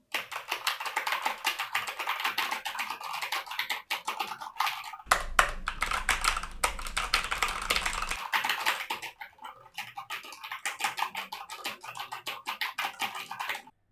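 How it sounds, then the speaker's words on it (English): Rapid keyboard typing picked up by a gaming microphone with ENC noise cancellation on, a fast, close run of key clicks that briefly gains a low hum partway through and keeps a steady clatter otherwise. "Let's have the keyboard test."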